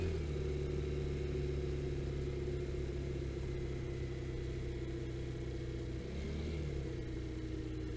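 A Vespa scooter rides along a route in the Ardennes, its engine humming steadily and close with a continuous mid-pitched drone and a slight dip in revs near the end, with no voices.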